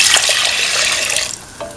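Coconut milk pours into a pot in a steady close splashing stream, fairly loud, and thins out toward the end with a few faint drips.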